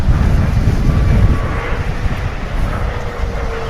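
A Turkish Airlines jet lands at DFW Airport, a loud, continuous low roar with heavy wind buffeting on the microphone, heard up close and outdoors.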